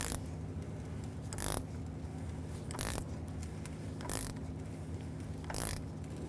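A 27mm socket on a ratchet snugs the oil drain plug of a 2016-2022 Mercedes-Benz GLC300, five short ratcheting bursts at roughly even intervals, close and faint over a steady low hum, with no talking.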